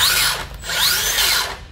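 A cordless 18V CS553D wood-cutting saw runs close by with a loud whirring motor whine that dips briefly and rises again over under two seconds.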